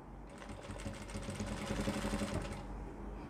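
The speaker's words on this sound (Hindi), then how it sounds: "यहाँ पे हम सिलाई लगाएंगे" A sewing machine stitches fabric for a baby's pant, running as a fast, even mechanical rattle for about three seconds, close and fairly quiet with no talking.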